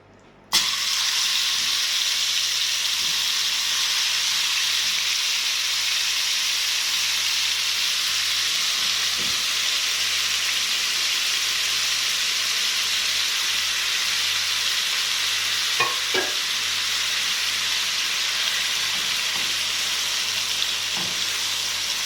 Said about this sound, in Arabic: هنا هننزل بالكبده هنا